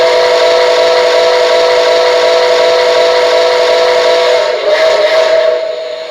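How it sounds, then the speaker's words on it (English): Loud, sustained steam whistle from an MTH Berkshire #759 model locomotive, a steady multi-tone chord held for several seconds before wavering and fading slightly at the close. "That is an amazing whistle."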